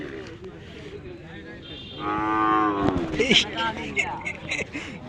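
A cow lets out a loud, drawn-out moo close by at a large cattle market in Kishoreganj, Bangladesh, amid people talking and general background chatter.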